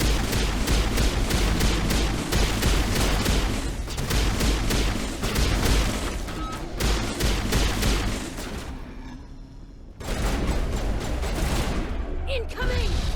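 Dense gunfire and grenade blasts fill a Mass Effect 1 battle, a loud sustained barrage of rapid shots and booms that drops out briefly and then resumes, with game voices mixed in.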